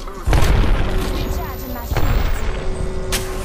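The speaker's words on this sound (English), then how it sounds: "Grenades coming in." Heavy booms from grenades going off in the battle royale shooter Apex Legends, a loud blast near the start and another around the middle, with gunfire crackle and players talking over the chaotic fight.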